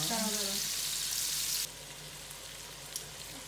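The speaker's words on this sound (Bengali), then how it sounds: "এখানে প্রনসগুলো ভালো করে ফ্রাই হচ্ছে" Prawns frying in a pan, a steady bright sizzle that is loud at first and then drops to a softer, continuous crackle with a few small pops.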